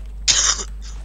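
A single sharp, explosive sneeze bursts out, bright and hissy, followed by a faint trailing breath; close to the listener, with no talking.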